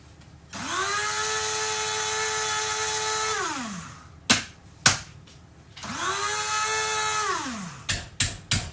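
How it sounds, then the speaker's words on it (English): An electric grinder whirs loudly for about three seconds at a time, grinding spices into powder for Irish-style banger sausages, spinning up and down twice with rattling knocks and taps between runs. "I'm just going to grind this into a powder"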